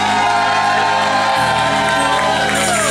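A loud, continuous crowd cheers and whoops at a carnival season closing celebration, honouring the carnival princes, with steady music droning underneath throughout.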